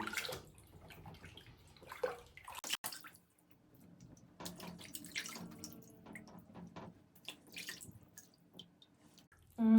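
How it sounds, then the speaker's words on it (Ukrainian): Water splashes and trickles intermittently as a face is rinsed with water scooped from a basin, soft and close with small drips between bursts. "будемо змивати водою. У мене тут тазик з водичкою."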